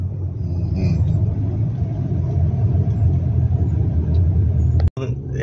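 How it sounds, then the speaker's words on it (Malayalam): A safari park vehicle at Safari World Bangkok idles with a steady, close engine rumble that continues throughout. Voices may be present underneath, and the sound cuts out abruptly for a moment near the end. "ഇത് അവരുടെ വണ്ടിയാണ്, പാർക്കിന്റെ വണ്ടിയാണ്."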